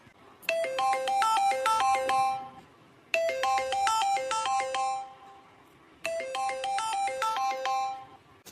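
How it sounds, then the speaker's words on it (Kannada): A cartoon phone ringtone plays a bright, repeating melodic phrase three times in a row, each burst lasting about two and a half seconds with short gaps between, loud and clear with no talking. "ಫೋನ್ ಬತ್ತಲ್ಲ ಯಾರ್ದು."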